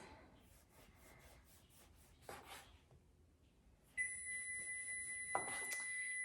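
A kitchen timer goes off while granola bakes: a steady, piercing electronic tone starts suddenly partway through and holds without a break to the end, with a brief clatter in the middle of it over quiet kitchen background.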